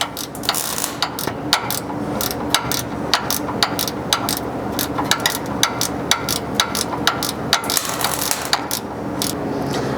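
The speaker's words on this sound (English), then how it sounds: "Obviously you can see here that it can be done with a ratcheting wrench." A ratcheting wrench turns a bolt on the front bumper of a second-generation Toyota Sequoia, its clicks coming in a steady, rapid series of sharp metallic ticks that run close and loud throughout with no talk.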